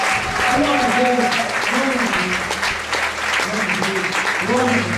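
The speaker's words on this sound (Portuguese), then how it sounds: "Você está alegre, então aplauda o Senhor mais forte que você puder." A church congregation claps hard in a sustained burst of applause while a voice speaks over it, with the clapping steady and loud throughout.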